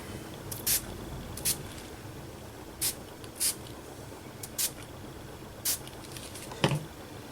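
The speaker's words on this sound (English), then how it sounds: "and just another little spray." A spray bottle gives short, evenly spaced hissing spritzes onto an art journal page, about seven in a row, over a low steady background hum.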